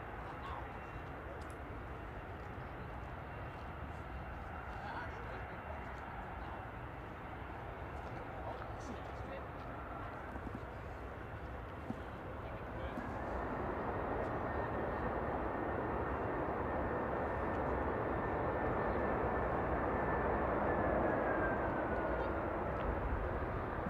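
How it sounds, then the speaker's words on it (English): An airliner rolls out on landing at Manchester Airport, a steady broad engine roar that swells midway as reverse thrust kicks in late, loud and sustained over outdoor background. "Bit of a delayed reverse thrust there."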